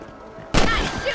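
A rifle shot in Red Dead Redemption while hunting rabbits: one sharp, loud crack after a quiet moment, trailing into a brief decaying echo, with no talk.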